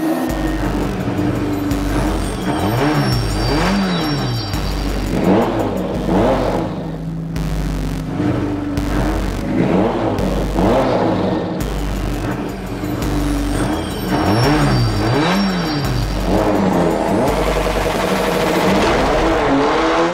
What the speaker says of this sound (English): Oh, too much wheel spin.